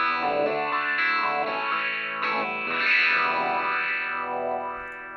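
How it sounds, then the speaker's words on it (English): Sustained distorted guitar chords run through the Hornet WahWah plugin in Tracktion T7, with a sweeping wah filter rising and falling in slow, repeated arcs that shift the tone from dark to bright. "I can kind of adjust the center frequency I'm using for this wah effect"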